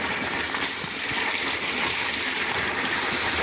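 Liquid fertilizer for a tomato crop, Agromaster 20-20-20 drip feed, poured into a drum: a steady, loud gushing pour that runs unbroken and alone throughout.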